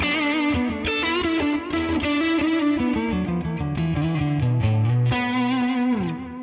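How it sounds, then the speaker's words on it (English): Electric guitar plays chords through an amp's rhythm channel with the volume fully up and no overdrive pedal, giving a gritty edge-of-breakup tone with bright detail, loud and continuous for several seconds. "crispy, gritty edge of breakup sound that's full of high-end detail"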